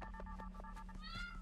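A cat meows in the video game Zelda: Echoes of Wisdom, several short tonal mews in quick succession over a steady low game hum, with a brief higher chirp near the end.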